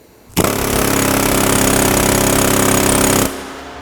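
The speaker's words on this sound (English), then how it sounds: "using loud tools like an air hammer, put some earplugs in" A pneumatic air hammer starts abruptly and pounds continuously at close range for about three seconds, then cuts off sharply, during rear suspension work on a truck.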